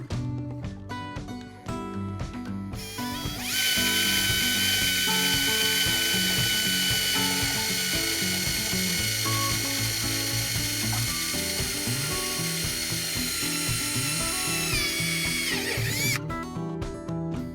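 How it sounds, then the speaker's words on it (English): A power drill on a light clutch drives a screw into the plastic hull of a Hobie Mirage Passport 12.0 kayak, whirring loudly and steadily for over ten seconds, with ratcheting clicks before and after the run. "I fastened it most of the way with the drill, and I'm gonna tighten it up with the Phillips driver"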